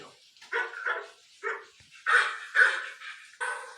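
A human voice imitates a dog barking, giving a few short, clipped 'woof' calls in a quiet room, close and fairly soft.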